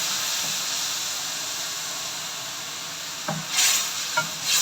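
Spices and tomato puree fry in hot oil in a karahi for aloo karahi, giving a steady, close sizzle and hiss, with a few brief stirring scrapes and bursts of spitting near the end.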